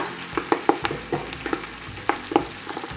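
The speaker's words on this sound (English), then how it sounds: "So I'm going to take my greens and throw them in the bacon grease." Collard greens tossed into hot bacon grease, crackling and sizzling nearby with sharp pops and stirring clatter over a soft steady frying hiss.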